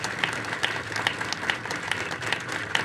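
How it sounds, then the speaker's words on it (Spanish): An audience applauds a guest speaker at a talk, dense even clapping from a seated crowd filling the room, moderately loud and unbroken, with no voice over it. "un fuerte aplauso"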